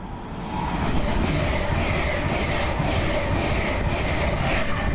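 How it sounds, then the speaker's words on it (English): A Class 807 Evero express train rushes past at Acton Bridge on the West Coast Main Line, a loud, steady roar of wheels and rail noise that swells in the first second and then holds close and heavy to the end. "the next train to be coming through will be a Class 807 Vero running from Liverpool to London Euston"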